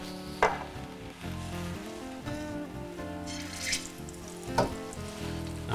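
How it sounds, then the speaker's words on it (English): Floured lamb shanks browning in a hot pan with a couple of tablespoons of oil, a steady sizzle with occasional sharper pops and clinks, heard alone. "while our lamb shanks are browning"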